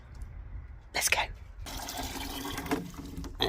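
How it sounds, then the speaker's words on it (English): Water poured onto potted tomato plants in grow bags, a steady splashing pour that starts partway through and runs to the end, with a voice speaking briefly near the start. "give them a little water, I suppose"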